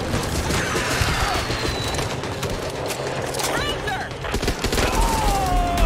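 Dense gunfire in the co-op zombie shooter Back 4 Blood, a continuous rattle of rapid shots with occasional heavier bangs and whooshing effects, loud and close, with players talking over it.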